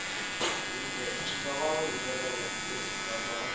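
An electric hair clipper buzzes steadily and quietly while cutting hair for a zero-cut trim, a thin constant hum with brief louder bursts as it passes through, while someone talks over it.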